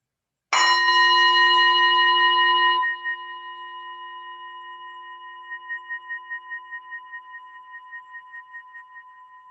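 A mindfulness bell struck once during a Tai Chi Easy class at Castle Point VA, ringing loud and clear, then leaving a long, pure tone that slowly fades with a gentle wavering pulse.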